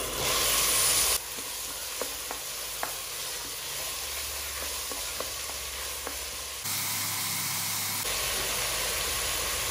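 Sliced onions frying in four to five spoons of oil in a pan, a steady close hiss with a few light stirring clicks, loud and unbroken with no talk.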